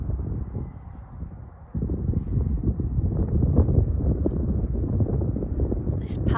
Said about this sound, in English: Excuse any blustering from the wind